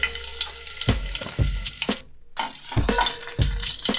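Chopped green chillies drop into hot oil in a pan and sizzle loudly and close, with sharp crackles and spits that break off briefly midway before the frying hiss returns, and no voices.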